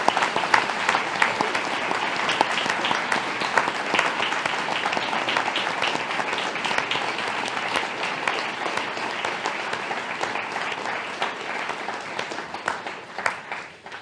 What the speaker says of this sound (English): we would still want to recognise their achievements with a round of applause this evening